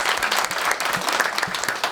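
Studio audience applause on a Turkish talk show, brisk, bright clapping from a small crowd, steady and close with a few sharper individual claps.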